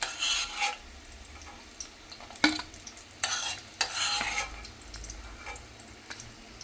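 Eggs fry in hot oil for egg tikka masala, a steady close sizzle broken by several sharp scraping stirs and clinks of a utensil against the pan.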